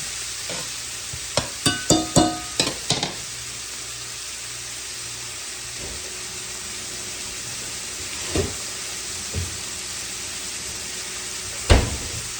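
Garlic added to softened onions in a skillet, a steady low sizzle throughout, with a cluster of clinks and stirring knocks early on and a few scattered utensil taps later.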